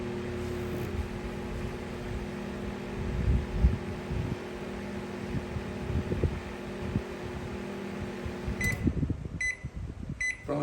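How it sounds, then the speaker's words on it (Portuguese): A microwave oven with a faulty capacitor runs with a steady low mechanical hum, then clicks off near the end with a few sharp beeps. "vamos dar uma ligada aqui nesse micro-ondas para você ver ele funcionando."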